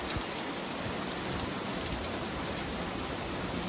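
Rain blowing hard outdoors, a dense, steady hiss of heavy rainfall pattering on surfaces, loud and continuous without pause.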